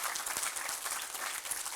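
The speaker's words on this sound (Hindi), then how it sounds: "तो एक बार उनके लिए जोर से ताली बजाइए।" An audience claps at an award ceremony in India, with dense, steady applause from many hands that holds at an even level for the whole short stretch. No voice rises above it.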